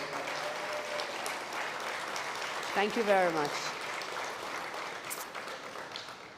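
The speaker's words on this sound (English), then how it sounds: "Let's give them, our future leaders, a round of applause" An audience applauds interns at a future leaders internship engagement function, a steady wash of clapping throughout, with a voice speaking over it.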